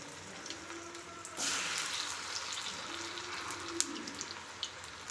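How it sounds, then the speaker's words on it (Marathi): Alu vadi, colocasia leaf rolls, drop into hot oil and set off a sudden bubbling sizzle that carries on steadily, with small crackles and pops close by. "आता ह्याच्यामध्ये मी या आळू वड्या सोडते आणि छान आपण अशा त्या फ्राय करून घेऊया।"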